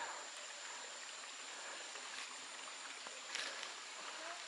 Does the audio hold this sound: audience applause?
no